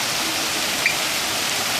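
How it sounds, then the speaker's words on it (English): Steady rushing splash of a water fountain at Beijing Airport, with water pouring from carved dragon heads around its base; a dense, even, continuous spray close by with no breaks. "the water coming out of the dragon's mouths around the"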